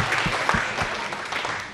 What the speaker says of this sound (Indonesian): Tepuk tangan Luar semuanya